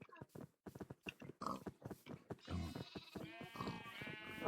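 Pig grunts and squeals from a Minecraft hardcore game, short repeated oinking bursts followed by a longer sustained animal cry, fairly faint and mixed with a little talk.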